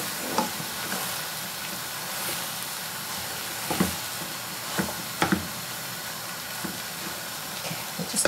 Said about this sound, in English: Leave that to simmer for a few minutes.